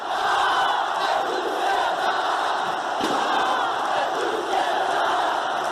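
Huge Flamengo football crowd at the Maracanã roaring and chanting in ovation as Júlio César leaves the field, a distant, continuous stadium din with sustained cheering and no pauses.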